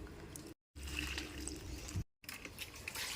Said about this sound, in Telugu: ఇలా వాటర్ని పల్చగా కలుపుకొని మనం మొక్కలకి పోసుకోవాలి ఫర్టిలైజర్